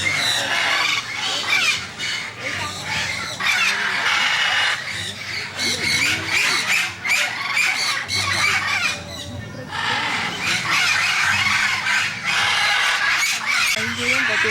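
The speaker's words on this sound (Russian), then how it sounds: "вот здесь попугаи сидят вне клетки, что, собственно говоря, нам и было нужно" Parrots squawk repeatedly in a bird park in Brazil, where they perch outside their cages. The harsh calls come in dense, overlapping bursts at moderate distance, mixed with other bird calls and a voice talking over them.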